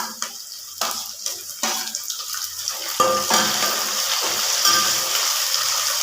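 Onion and tomato fry in oil with a soft, steady sizzle, broken by several stirring scrapes and a louder splash-like burst as more tomato is added, with no voices present.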